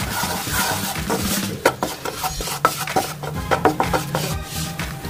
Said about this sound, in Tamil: ஃப்ரை பண்ணிக்கோங்க இந்த பட்டரில்.